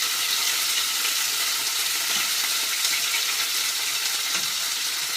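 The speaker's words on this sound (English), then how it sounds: "So you want to give a very good sear on all sides as quickly as possible, which is why you have the higher heat." Beef for Vinen kebab sears in a pan on high heat, a steady loud sizzle with crackling that fills the whole stretch without break.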